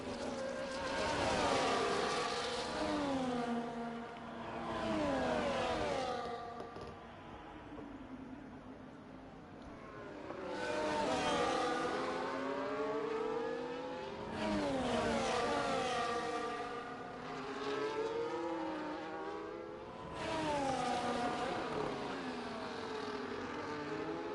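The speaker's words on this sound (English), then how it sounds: "Master OG has crept up to the back of the Mercedes in front of him" Race cars in a racing video game at Circuit of the Americas, including a Mercedes, with loud high engine whines that rise and fall in repeated sweeping waves as the cars accelerate and shift, continuous and without talk.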